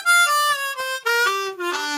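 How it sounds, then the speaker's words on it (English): Harmonica running through a blues scale, a few sustained reedy notes stepping downward one after another, close and clear with no other sounds. "we are going to go over the blues scale."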